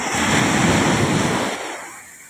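Ocean waves at a beach: a loud, close rush of surf with some wind buffeting the microphone, swelling and then easing away to quieter wash near the end, with no talking.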